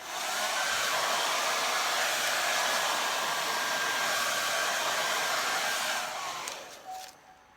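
A handheld hair dryer blows steadily and loudly at close range while styling hair into a voluminous salon-style blowout, then cuts out near the end with a brief sputter.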